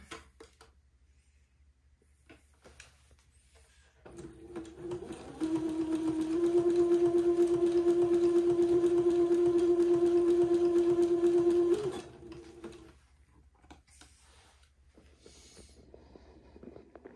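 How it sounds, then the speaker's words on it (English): A sewing machine zigzag-stitching lace beading to entredeux on a baby daygown: quiet room, then the motor whirs up into a steady, even run of rapid stitching for about six seconds and stops. "just slowly zigzagging the beading to the entredos"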